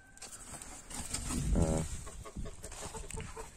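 Muscovy ducks on a farm give soft poultry-like calls and low clucking, with one louder call in the middle over light rustling and outdoor background noise.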